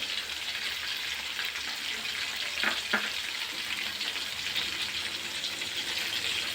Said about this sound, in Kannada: ಚೆನ್ನಾಗಿ ಫ್ರೈ ಆಗಬೇಕು ಫ್ರೆಂಡ್ಸ್ ನೋಡಿ ಫ್ರೈ ಆಗ್ತೈತೆ ಇವಾಗ ಸ್ವಲ್ಪ ಸಾಸಿವೆ